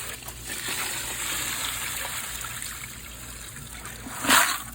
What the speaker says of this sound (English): just kind of rinsing all this dusty crap off of there